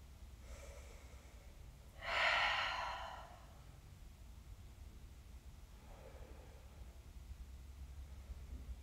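Deep breathing during an upper-body stretching routine: one loud, drawn-out exhale of about a second near the start, then a fainter breath later, close to the microphone over a low steady hum.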